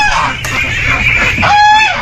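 A goose on a farm honks loudly nearby, a few harsh nasal calls with other fowl sounds mixed in, no clear talk.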